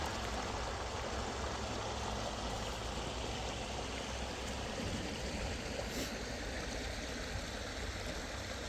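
Wab River flows along a trail in the woods, a steady broadband rush of running water heard continuously and fairly close, with no voices.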